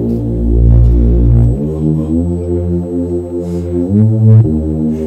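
A Moog bass synth line with delay and reverb giving a wide stereo room, deep sustained notes shifting pitch a few times, loud and alone with no voices.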